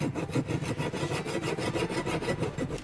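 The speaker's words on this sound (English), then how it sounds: "So now we use the back side of the file in here." Back side of a file worked back and forth over wooden edges of a hammer form, giving a steady, close rasping rub in quick repeated strokes with no talk.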